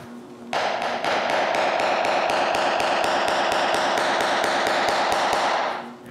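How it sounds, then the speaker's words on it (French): A hammer drives short cut nails into the flat back of a wooden bellows, a steady run of about twenty sharp, evenly spaced blows, loud and close with no talking. "Sur la partie plate de l'arrière, je cloue 3 clous"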